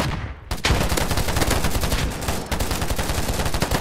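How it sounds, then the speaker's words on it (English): Gunfire in the video game Polygon cracks out in rapid, dense bursts after a brief quiet start, loud and continuous with automatic-fire rhythm. "We're getting shot at."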